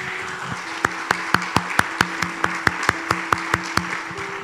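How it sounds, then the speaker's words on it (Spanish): A church congregation applauds steadily, with a run of sharp, evenly spaced loud claps standing out above the general clapping. "Dale un fuerte aplauso al Señor"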